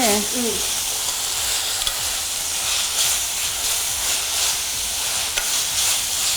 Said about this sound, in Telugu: అది బాగా ఫ్రై అయిపోవాలి.